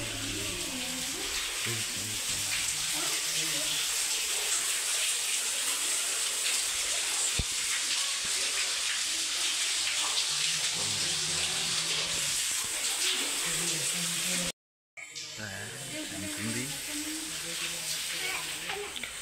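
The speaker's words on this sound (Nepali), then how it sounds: "उहाँबाट पानी आउनु रहेछ छ्याङछुङ्दी मन्दिर" Water pouring steadily from a spout at Chhyangchhungdi temple, a continuous rushing splash with voices talking faintly in the background and a brief dropout near the end.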